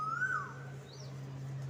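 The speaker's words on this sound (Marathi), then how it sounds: "कोकिळ किती छान वराटते बघितलं का आवाज येतोय का" An Asian koel gives a single rising, whistled call, faint and distant, over a steady low electrical hum.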